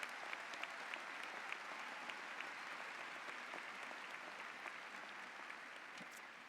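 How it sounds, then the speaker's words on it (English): A graduation crowd applauds the high school faculty and staff, a steady, even wash of many hands clapping at a distance, moderately quiet, holding throughout with no voices on top. "Please give each of these educators a round of applause."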